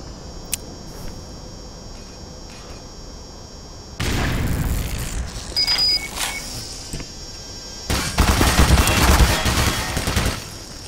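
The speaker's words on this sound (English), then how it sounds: "I think I can shoot these turrets." Bursts of gunfire aimed at turrets in the video game Black Mesa, loud rattling volleys in two stretches after a quieter opening, with game noise throughout.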